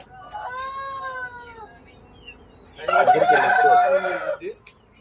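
A native-breed rooster crows once, a long rising call, followed by a louder, rougher burst of bird calls.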